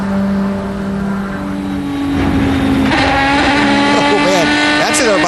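Onboard race car engine from the 2006 ALMS season, a loud sustained drone that climbs in pitch as the car accelerates, with a commentator talking over it.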